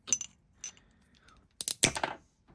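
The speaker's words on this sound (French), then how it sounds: "Là, je vais la couper. Je prends les ciseaux à mosaïque." Mosaic nippers snap through a piece of fused glass in a few sharp, close clicks and crunches, with a small cluster of crisp snips near the start and a louder burst of cracking toward the end.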